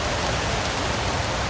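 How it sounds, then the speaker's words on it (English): Rain patters steadily onto a CountyComm titanium mini stove outdoors, a dense, even hiss of drops with no gaps, loud and close. "the rain's hitting it,"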